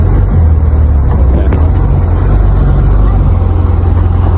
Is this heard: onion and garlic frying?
no